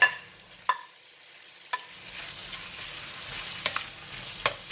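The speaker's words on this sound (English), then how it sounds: "We're going to keep frying until the onion becomes soft." Soft, steady sizzling of onions and ginger frying in hot oil, punctuated by a few sharp clinks and stirring sounds.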